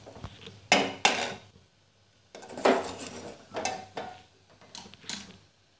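A utensil stirring coriander powder into a potato and carrot fry in a pan, heard as a few separate bursts of scraping and clanking against the metal, close and distinct with short pauses between them.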